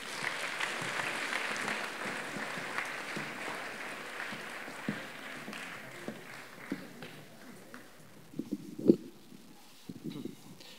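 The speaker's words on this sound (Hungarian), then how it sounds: "biztassuk őt is egy nagy tapssal" An audience at a school anniversary celebration applauds, the clapping dense at first, then thinning into scattered claps, with a few louder thumps and some chatter near the end.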